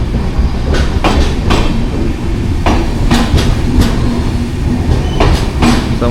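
A passenger train in Maharashtra's Konkan region, heard from on board during a quiet early-morning run, gives a steady loud rumble with rhythmic clickety-clack wheel beats recurring every second or so, and no talk.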